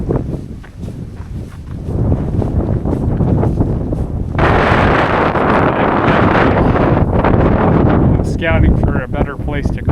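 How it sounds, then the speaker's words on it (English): Strong wind gusts buffeting the microphone on an open trail in the badlands, loud and continuous with rumbling surges, a heavier gust midway, and a voice speaking briefly near the end. "The wind gusts are just huge."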